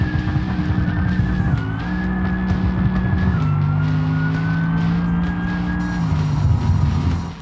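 A supercharged Bruckell Moonhawk race car in the BeamNG video game, its engine a loud steady high drone that shifts pitch in stepped jumps as it accelerates, with no talk over it.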